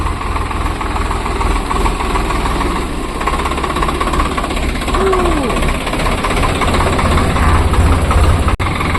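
A tractor engine runs steadily while people ride on it, a loud, continuous chugging rumble with rapid knocking pulses close by, and faint voices underneath.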